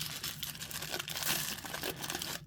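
Butcher wax paper crinkles and tears continuously at close range as a boxed pocket knife is unwrapped, ending abruptly.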